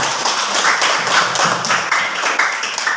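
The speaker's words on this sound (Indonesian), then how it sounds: "Berikan tepuk tangan." Students in a classroom clap for a group that has just performed, a loud close rattle of clapping hands with an uneven rhythm lasting a few seconds.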